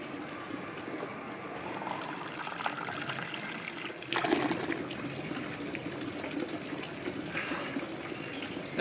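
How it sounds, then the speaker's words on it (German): Water runs steadily at an outdoor waterworks stop on a cycling tour while a bicycle bottle is refilled, a continuous splashing trickle with a brief louder gush midway and no speech. "Ich werde da am Wasserwerk meine Fahrradflasche nochmal auffüllen"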